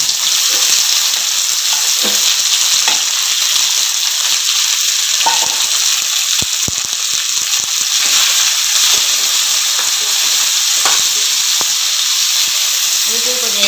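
Small bitter gourds (athalakkai) with curry leaves frying and being stirred in hot oil in a pan, giving a steady, loud sizzle with scattered scraping and clatter throughout.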